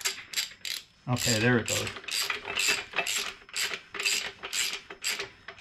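An Arcan car jack is ratcheted up with a rapid, regular series of metallic clicks, close and crisp, while someone briefly speaks over the start of it.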